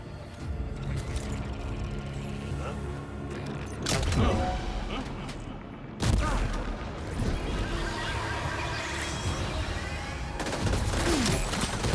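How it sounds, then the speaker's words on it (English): Grenade blasts and gunfire in the video game Death Stranding 2: a steady, dense combat din broken by heavy, loud explosive bursts at three points, each followed by rumbling crackle. "I threw a grenade on your head"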